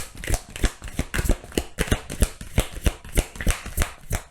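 Oracle cards being shuffled for a pick-a-card tarot reading, a steady run of quick riffling bursts about twice a second, close and clear with no talking.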